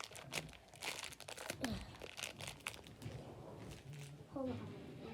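A plastic toy package from an LOL Surprise boy doll is opened by hand, giving quiet, scattered crinkling and crunching of plastic over several seconds, with faint talk mixed in.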